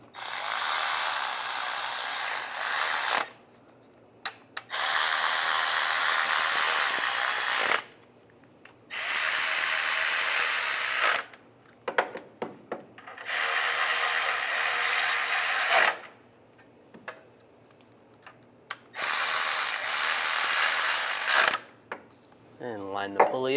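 Power tool runs in several bursts of a few seconds each, snugging water pump bolts on a 1999-2005 Volkswagen Jetta, with quiet gaps and small clicks between the runs.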